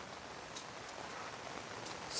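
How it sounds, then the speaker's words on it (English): Heavy rain pours down on a Hawaii homestead as a faint, steady, even wash of noise with a few soft taps and drips and no talking. "It's pretty crazy how much rain we're getting"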